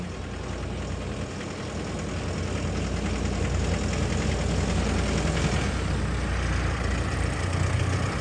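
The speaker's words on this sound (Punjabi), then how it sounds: "ਦੋ ਟਰੈਕਟਰ ਲੈ ਕੇ ਜਾ ਰਹੇ ਆ" A heavy engine idles with a steady, rough low rumble throughout, fairly loud and near, with no talking.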